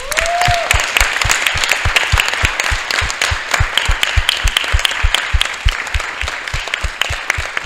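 A church audience claps together in a steady, even rhythm, a loud, close run of synchronized beats with a brief whistle-like tone at the start.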